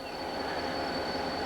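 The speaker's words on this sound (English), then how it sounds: "Now, he'll pull out this whole daggone train" A Norfolk Southern freight train pulls out of a siding, a heavy steady rumble of rolling cars with a thin high wheel squeal running throughout, close by and with no voices.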